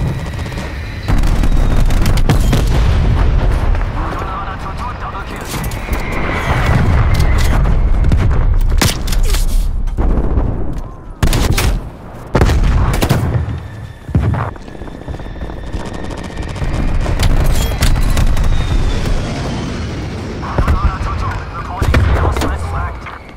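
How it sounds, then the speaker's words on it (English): Strafe run in Call of Duty: Black Ops Cold War, loud sustained gunfire and heavy explosive booms with aircraft roar, continuous dense bursts with brief dips, voices faintly under the barrage. "Strafe run awaiting your orders."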